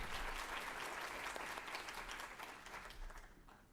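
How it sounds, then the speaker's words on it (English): A dense wash of audience applause greets the keynote speaker at a University of Northern Iowa social and emotional learning conference. It stays full and steady, then thins out and fades over the last second. "Please join me in giving Susan a round of applause."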